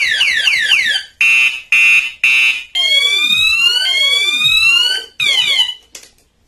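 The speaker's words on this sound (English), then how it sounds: "Alarm set on this bike." A motorbike anti-theft alarm blares at close range, cycling through warbling chirps, steady repeated beeps and rising-and-falling siren sweeps before cutting off abruptly.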